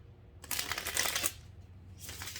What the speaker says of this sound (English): I think like I'm just gonna shuffle